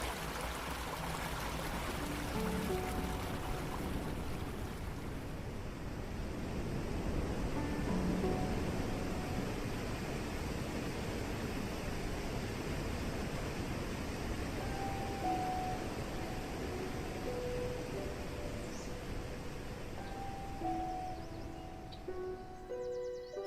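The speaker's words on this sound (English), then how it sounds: "The thunderous sound of the waterfall can be heard hundreds of feet away" El Chiflón waterfall in Mexico, water cascading over limestone, a steady broadband roar of falling and rushing water holding constant throughout, with no voices.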